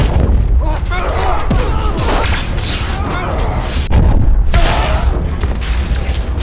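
Rocket fire and explosions rain down on the submarine USS Arkansas, a dense, continuous rumble of booms and blasts with repeated heavy impacts, loud throughout, while voices speak beneath the barrage.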